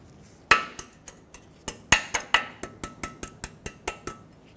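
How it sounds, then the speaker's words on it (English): A new metal cotter pin is fitted and bent over on a tie rod nut of a 2000-2005 Ford Excursion, giving about a dozen sharp, close metallic clinks and taps in an uneven rhythm. "Install a new cotter pin, and of course, bend it over to lock it in."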